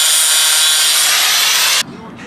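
Metal parts on an engine oil pan are ground down during an LS engine swap into a BMW E30. A loud, harsh grinding whine runs continuously for about two seconds, then cuts off abruptly into quiet room noise.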